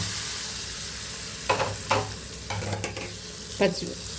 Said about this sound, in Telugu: ఇందులో నేను తాలింపు వేసానండి